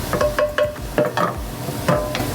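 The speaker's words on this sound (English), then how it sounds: "getting in there and scraping off all those good, fun, tasty bits off the bottom of the pan" Metal utensil scraping browned bits from a pan bottom while deglazing with wine, a series of short repeated scrapes and strokes over a steady low simmer, close and fairly loud.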